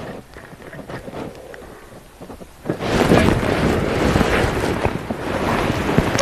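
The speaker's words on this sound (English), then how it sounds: "we're getting quite a lot of rain" Steady rain pours down outdoors on a green safari landscape, starting softly then swelling into a loud, dense hiss with wind buffeting the microphone; no talk.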